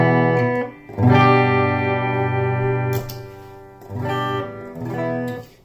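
Electric guitar through an amp with an EHX SuperSwitcher boost engaged, ringing sustained distorted chords loud and close, with a few pauses and restrikes.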